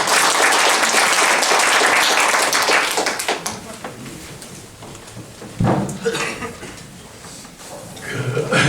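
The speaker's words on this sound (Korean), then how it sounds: "여러분 큰 박수 부탁드리겠습니다." Audience applause greeting a former party leader coming up to speak at a Daegu citizens' forum on a new southern regional airport, loud and dense for about three seconds, then dropping to scattered claps and murmuring before a second brief burst.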